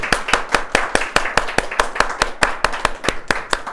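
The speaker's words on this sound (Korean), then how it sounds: "저희 모두 다 진심으로 환영하는 환영의 박수를." Church congregation clapping in welcome during a Sunday service, a steady run of sharp, close hand claps in an even rhythm, loud and unbroken from start to finish.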